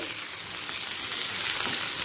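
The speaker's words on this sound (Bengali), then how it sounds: "টমেটোটা পেঁয়াজের সাথে এক মিনিট ভেজে নেব" Chopped tomato frying with onions in a pan, a steady close, loud sizzle with no talk, while mince curry cooks.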